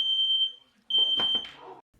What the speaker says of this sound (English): Even though I didn't see or smell any smoke, my smoke alarm did.